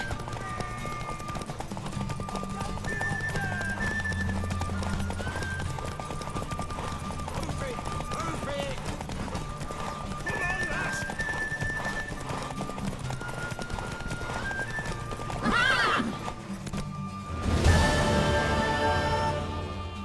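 Hoofbeats of a horse clip-clopping in The Witcher 3 on the island of Fyke, a steady rhythm under game music and spoken dialogue, with bursts of louder noise near the end.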